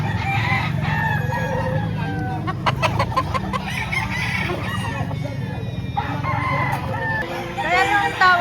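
Roosters crow repeatedly at a busy Saturday chicken market in Lipa, Batangas, their drawn-out calls rising over a constant crowd murmur and clucking, with several birds overlapping near and farther off.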